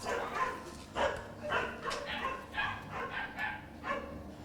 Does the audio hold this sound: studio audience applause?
no